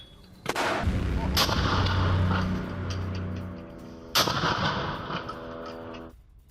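Attack on an army convoy in Gaza: two loud, sharp blasts of gunfire or explosions several seconds apart, each followed by a long rumbling echo and a steady background roar.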